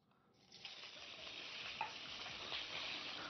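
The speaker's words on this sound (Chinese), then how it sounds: "我们用少许油煎这个肉至两面金黄" Thin slices of pork belly frying in a little oil, a steady soft sizzle that swells in after a quiet start and holds evenly, with a faint stir or clink partway through and no voices.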